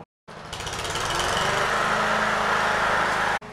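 A lawn mower engine starts up nearby and runs loud and steady, its buzzing drone holding constant for about three seconds before cutting off abruptly.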